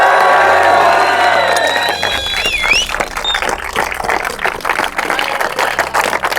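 Crowd cheering, whoops and applause at a school football championship award ceremony, a loud sustained roar of clapping and shouting children that stays dense throughout, with occasional whistles near the start.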